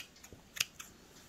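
Scissors snipping yarn loops on a handmade pom pom, a few quick crisp close cuts with one louder central snip, otherwise quiet.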